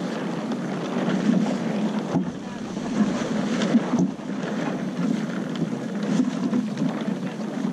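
A motorboat engine runs on open water in a steady, fairly loud drone that continues without a break, with wind and splashing mixed in.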